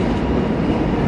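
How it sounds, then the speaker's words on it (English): A Mernda-line suburban train pulls into Southern Cross station in Melbourne's CBD, a steady loud rumble of wheels and traction noise filling the whole moment with no voices. "There is a Mernda train arriving behind me"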